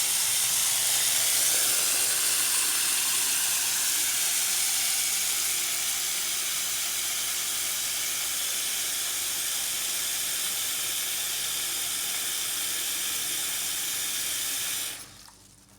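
Water runs steadily into a bathroom basin around a pop-up plug on a Posh Domaine 900 ensuite basin, a constant close hiss and rush that holds for most of the stretch before cutting off abruptly at the end.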